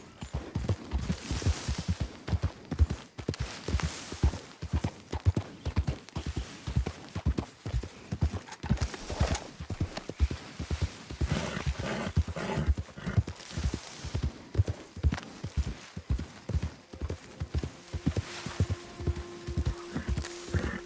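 A horse gallops in the video game Red Dead Redemption 2, with steady, rhythmic clip-clop hoofbeats continuing throughout at a brisk pace, close and even.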